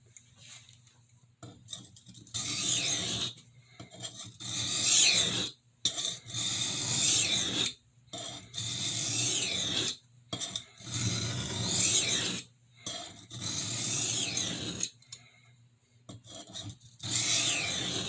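A damaged kitchen knife edge being sharpened on a stone, with repeated gritty rasping strokes in bursts of one to two seconds separated by short pauses, close and clear with no talk.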